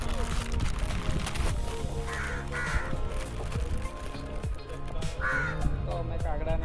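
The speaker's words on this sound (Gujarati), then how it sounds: "તો અમે કાગડાને મમ્મમ ખવડાવી દઈશું." Crows caw repeatedly in short harsh bursts, several calls spread across the clip, heard under a continuous dense background of outdoor noise during a morning outing.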